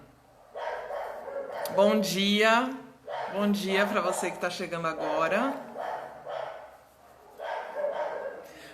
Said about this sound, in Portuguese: Peço desculpa pelo barulho das cachorrinhas